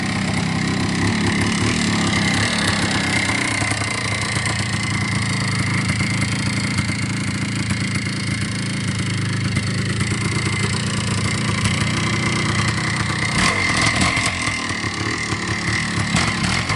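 A 1983 Yamaha IT490K motorcycle with new tires runs steadily through a slow race, its loud, continuous engine drone changing only slightly in pitch and staying close throughout, with no talking.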